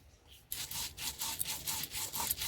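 Soaked cashew nuts are ground with a little water into a paste for doi katla, a rhythmic rasping scrape repeating steadily and close after a brief quiet start.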